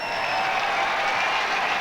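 A football crowd at Mount Smart Stadium in New Zealand applauding at half-time of a 1982 World Cup qualifier against Fiji, a dense, steady roar of clapping and cheering throughout.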